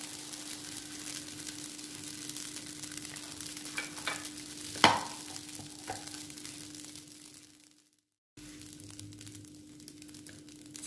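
Small ladlefuls of batter for mini khanfar pancakes cook in a frying pan with a soft, continuous sizzle, one sharp clink near the middle, a low steady hum underneath, and a brief dropout before the sizzle resumes.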